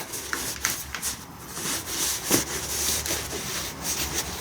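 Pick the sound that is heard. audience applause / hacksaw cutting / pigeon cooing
hacksaw cutting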